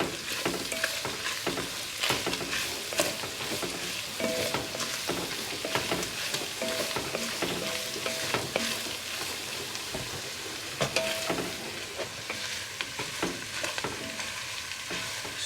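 Onions and bell pepper sizzling in a pan for home-style chili while being stirred, with a steady frying hiss and repeated scraping clatters from the spoon, close up.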